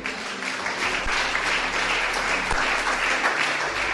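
Church congregation applauding during a sermon, an even, sustained roar of many hands clapping together from start to end.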